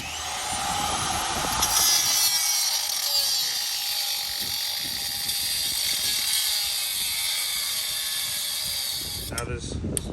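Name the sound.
circular saw shaving end off car pedal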